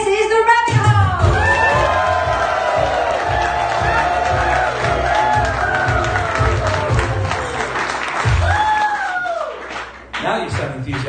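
A live audience at the Bear Club in Luton breaks into loud applause, cheering and whoops that fill the room, while voices call out and speak over the crowd noise, which fades briefly near the end.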